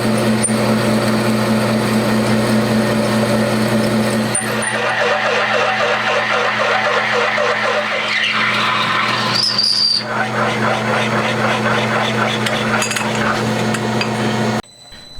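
Drill boring pilot holes in a wooden cylinder block for a handmade 125cc four-cylinder engine, a steady machine whine with scraping and light clinks throughout, ending abruptly.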